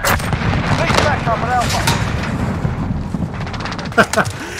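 Cruise missile strike in the Modern Warfare video game: heavy rumbling blasts and crackling fire roll on continuously, with a sharper burst near the end and in-game voices mixed in.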